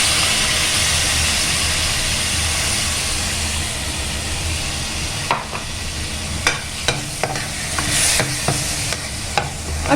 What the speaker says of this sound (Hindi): इसे 3-4 मिनट यूँ ही मीडियम आंच पर और ऐसे चलाते हुए हम इसको भी भूज लेंगे।